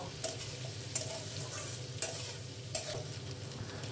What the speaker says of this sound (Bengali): লবণ আর হলুদ দিয়ে ভালো করে সবগুলো মিশিয়ে নেব